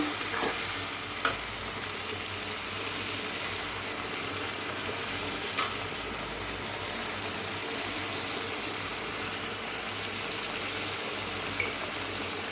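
Cumin paste and coriander powder masala fry in a pan as a continuous even sizzle, close and steady, with a few isolated sharp clicks of a utensil.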